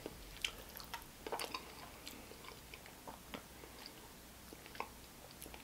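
Someone chews a mouthful of Mexican rice and beans with spicy salsa, close and soft, with moist, squishy bites and a few crisper crunches in an irregular rhythm.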